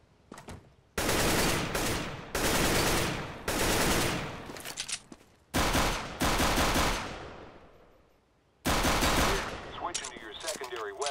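Video game weapon training course with loud, close automatic gunfire in five long bursts separated by short pauses, ending in fainter scattered shots.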